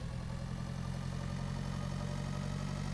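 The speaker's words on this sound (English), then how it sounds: "I've heard you idling for like a long time, mister." A tractor engine in the video game Pure Farming 2018 idles with a steady low rumble and even vibration, unchanging and continuous.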